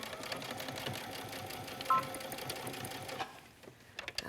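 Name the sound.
sewing machine stitching fabric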